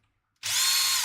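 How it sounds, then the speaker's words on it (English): After a moment of silence, a power drill driving screws into parts of an RC crawler build kicks in with a sudden, loud, steady high-pitched whine that holds to the end. "So I started putting screws in."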